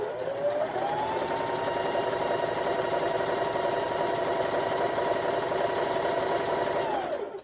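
Sewing machine running steadily for several seconds while chain piecing quilt blocks, a close, even mechanical whir with a brief pitch rise as it speeds up at the start, no speech.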